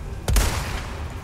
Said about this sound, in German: Einige Schuss mit der Sniper.